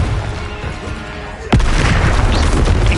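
A Confringo explosive spell blast in a Harry Potter video game: a single sharp, loud boom strikes midway after a quieter humming lead-in, followed by a dense rumbling roar of debris that carries to the end.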